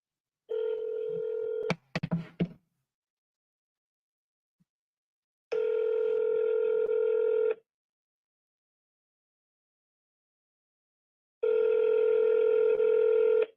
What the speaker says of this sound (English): we're going to make a few phone calls